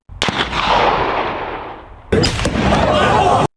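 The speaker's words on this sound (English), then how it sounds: "now let's listen to the 30-06 compared to the actual shot" Two loud 30-06 rifle shots about two seconds apart, each a sharp crack followed by a long rolling boom that fades slowly.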